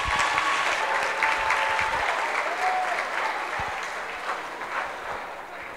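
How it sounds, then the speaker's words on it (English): An audience at a flower market night event at Asia Times Square in Grand Prairie, Texas, gives sustained, loud applause that fades slightly toward the end, with a faint tone or voice underneath. "Please give her another round of applause."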